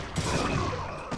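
In StarCraft, a rapid burst of video-game gunfire shoots down a unit, a dense crackling volley that rattles on for about a second with no voices over it.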